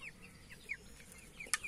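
Young chickens, including Wyandottes, clucking softly at close range, several short, quiet calls scattered over a low background, with one brief sharper note near the end.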